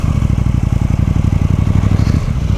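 A KTM 790 motorcycle engine while riding, loud and close with a rapid, pulsing throb at steady revs, clattery and continuous throughout, no talk.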